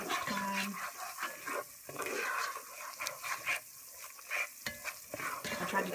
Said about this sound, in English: And just stir it around after each time.